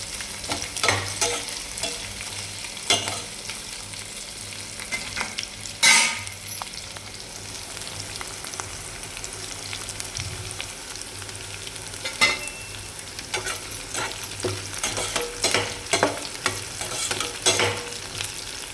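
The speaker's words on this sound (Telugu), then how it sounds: "ఇలా బాగా వేయించుకున్న తర్వాత పప్పులు అవి బాగా వేగాక" Lentils frying in a pan while being stirred, a continuous sizzle broken by repeated scraping and tapping of a spoon against the pan, close and without any talk.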